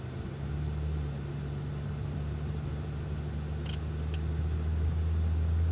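A Cadillac accelerates on the Auto Club Speedway track, its engine giving a steady, loud low drone that holds throughout and rises slightly in pitch toward the end, with a few brief faint clicks over it.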